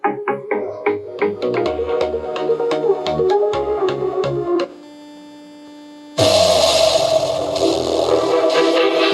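Music plays from a homemade DIY Bluetooth speaker, starting with clear plucked, rhythmic notes, dropping to a quiet hum for a moment, then returning louder and fuller with a dense, bright sound.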